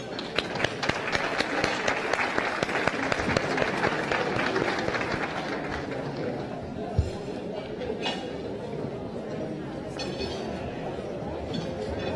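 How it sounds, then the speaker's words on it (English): An audience at a community gathering bursts into a big round of applause, loud and crackling at first, then thinning after about six seconds into scattered claps, clinks and murmuring chatter. "let's take this opportunity to once again wish them success by a very big round of applause"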